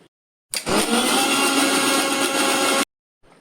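An electric mixer grinder grinds masala for a Konkani vali bhaji ambat, starting abruptly into a loud, steady whirring roar that runs about two seconds and cuts off sharply, with silence before and after.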